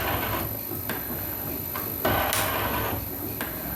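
Atlas metal shaper with a high-speed steel tool taking a slow final cut on bronze locomotive parts, faint rhythmic strokes repeating roughly every second over steady machine noise, with one louder scrape.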